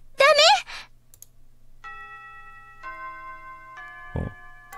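A school chime rings in a visual novel game: a short burst of voice at the start, then a sequence of sustained bell-like tones rising one after another, with a soft thud near the end.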